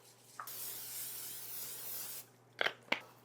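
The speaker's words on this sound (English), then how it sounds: "We're going to spray a 9x9 baking dish." A long, steady hiss of aerosol cooking spray onto a 9x9 baking dish, lasting nearly two seconds, followed by a couple of short clinks of the dish.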